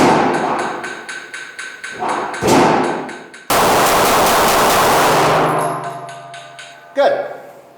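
A handgun fired in a fast shooting drill, a quick string of sharp, loud, closely spaced shots that then ring and echo on an outdoor range.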